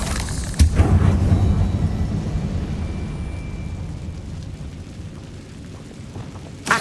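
In Hogwarts Legacy, a Confringo blasting curse bursts as one sudden deep explosion near the start, followed by a long rumbling decay that fades slowly, with a brief sharp sound at the end.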